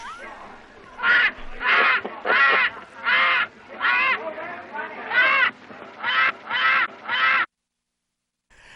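A bird squawks repeatedly in loud, harsh, honking calls, about ten in a row with short gaps between them, then stops.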